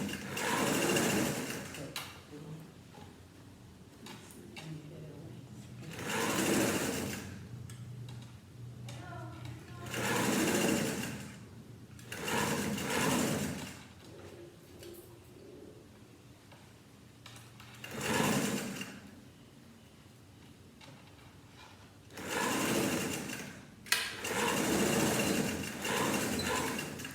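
A sewing machine stitches around the neckline of a dress or blouse, running in several bursts of steady mechanical whirring separated by pauses in which a person talks.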